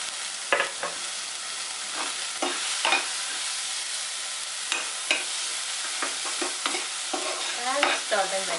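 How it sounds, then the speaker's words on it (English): Chopped tomatoes go into poha in a pan and are stirred, giving a soft steady sizzle broken by repeated scraping strokes of a spoon against the pan, close and fairly quiet. "add chopped tomatoes,"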